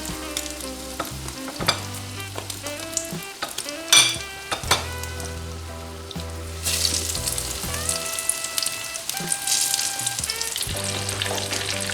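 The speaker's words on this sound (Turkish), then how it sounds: "Güzel kızarıyor patlıcanlarım." Egg- and breadcrumb-coated eggplant slices frying in hot oil, a steady close crackle with occasional utensil clinks against the pan, over a soft music bed and with no talking.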